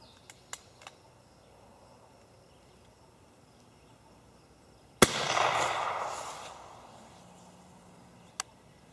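A homemade smoke round fires from an RV85 launcher outdoors. A single sharp pop is followed by a loud rushing hiss that fades over about two seconds. Faint insect chirps sound before and after, with one more click near the end.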